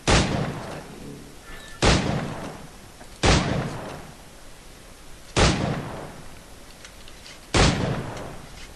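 Pistol shots in the pirate video game Assassin's Creed 4, five sharp loud bangs spaced roughly two seconds apart, each trailing off into a short decaying rumble, with no speech.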